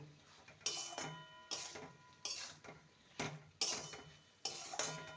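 Pumpkin stem being stirred together with vegetables in a pan, a regular series of loud clinks and scrapes from a utensil against the metal, about one every second, over a faint sizzle.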